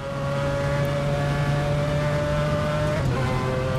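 A Mazda 787B race car in Assetto Corsa, heard from the cockpit on the Nordschleife, holds a loud, steady high-pitched engine drone, with a brief shift in pitch near the end.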